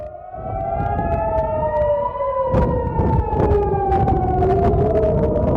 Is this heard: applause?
no